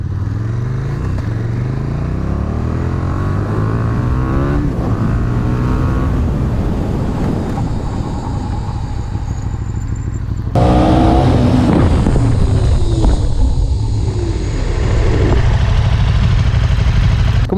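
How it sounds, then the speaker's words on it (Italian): A KTM 1290 Super Duke R motorcycle roars loud and close during a braking test, its engine note rising and falling continuously before an abrupt shift partway through, with no talking. "Adesso una prova di frenata."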